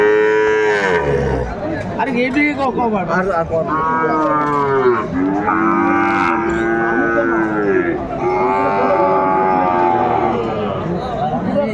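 A Sahiwal bull calf at a cattle market in Cumilla moos loudly and repeatedly in long, drawn-out calls, close by, with faint crowd chatter and voices behind.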